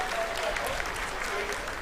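Sustained, dense applause from a crowd filling the ISRO mission control room during the Chandrayaan 3 landing, steady and loud throughout.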